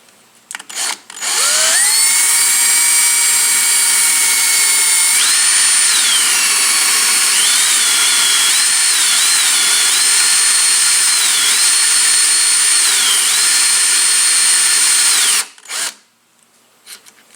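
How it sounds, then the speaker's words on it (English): A power drill whines continuously at high speed for over ten seconds while boring a hole in a PM-727M milling machine, its pitch shifting slightly, then stops abruptly. "see if we can't drill this hole"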